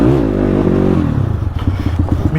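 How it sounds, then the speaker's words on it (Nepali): Raw exhaust of a Honda CX300C motorcycle running without its dB killer: a loud rev that falls away into a lumpy, popping idle, close and unaccompanied by talk. "यसको साउन्ड चाहिँ डिबीकिलर निकालेको"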